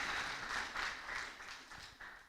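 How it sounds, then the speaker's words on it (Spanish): A church congregation applauds in a faint, distant, steady wash of clapping that holds throughout. "¿Cuántos le pueden dar un aplauso al Señor con todo su corazón?"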